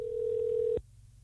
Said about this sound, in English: Come on, start ringing already.